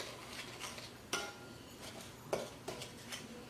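A spoon scrapes and clinks against a bowl while chocolate sugar scrub is stirred, faint and close, with a few sharper taps spaced irregularly among soft gritty rubbing.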